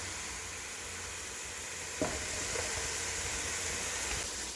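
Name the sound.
garlic and Italian seasoning sizzling in a pot, being stirred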